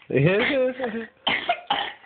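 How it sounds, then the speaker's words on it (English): A voice speaks briefly, then two short, sharp coughs follow in quick succession, close by. "I'm sorry you're coughing."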